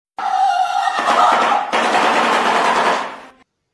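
A shoebill clatters its bill in a rapid, loud wooden rattle, bursting out in two long runs that sound like machine-gun fire, then stopping abruptly.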